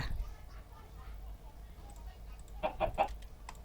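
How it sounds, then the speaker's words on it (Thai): Minecraft chickens cluck in the blocky game world, several short clucks bunched near the end after a quieter stretch of low game ambience, with faint talk underneath. "โอ้ยไก่ ไก่ ไก่ เราอยากได้ไก่เป็นสัตว์เลี้ยงครับ"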